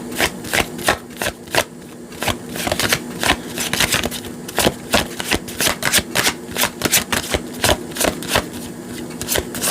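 Tarot cards being shuffled by hand, a steady run of crisp riffling slaps and flutters repeating roughly every half second, close and fairly loud with no other sound.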